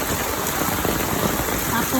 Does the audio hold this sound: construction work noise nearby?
no